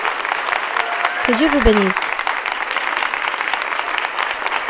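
Applause from a congregation at a Bible study gathering welcoming a sister, steady and broad, with a voice speaking over it partway through.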